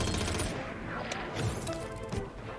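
Rapid gunfire in the shooting video game Battleground Royale, dense bursts of shots layered with game effects and music, fairly faint.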